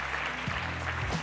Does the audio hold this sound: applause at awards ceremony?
yes